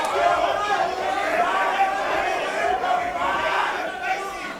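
Dense crowd noise at a SuperFight fight event, a sustained roar of many voices shouting and chanting in support of a fighter, loud and continuous throughout.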